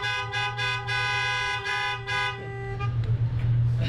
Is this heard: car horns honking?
yes